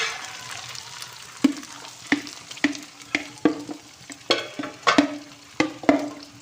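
Onions, peas and carrots frying in a pan are stirred with sharp, irregular spoon knocks and scrapes over a low, steady sizzle, heard close and without talk.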